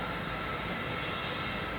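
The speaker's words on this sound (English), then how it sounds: "the pilot slams on the plane's brakes while traveling over 200 miles per hour" A fully loaded Boeing 747-8 makes a rejected takeoff during testing, braking hard at high speed, heard as a dense, steady roar of engines and rushing air with no voices.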